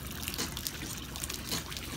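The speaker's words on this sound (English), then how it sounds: "You can see the water flowing." Water flowing steadily from the output pipe of a homemade ram pump, a faint continuous trickling splash with small bubbly bursts, close by and with no talk.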